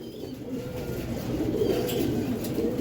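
A flock of Giribaz pigeons coos in a steady, low, throaty murmur, several birds overlapping close by with no pauses.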